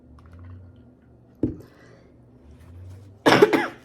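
A person coughs while eating a Filipino chicken adobo and rice meal: a short cough, then a louder, harsher cough close to the microphone, with faint chewing and clinking in a quiet room.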